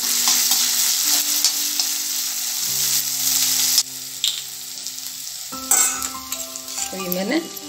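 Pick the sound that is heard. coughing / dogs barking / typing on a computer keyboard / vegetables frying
vegetables frying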